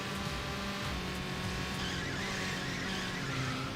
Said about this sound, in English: I do hear the cars behind us.